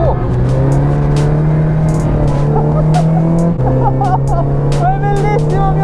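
A Toyota AE86 drift car being warmed up gives a loud, close engine drone that holds steady, steps up in pitch partway through and then climbs again with short rising revs.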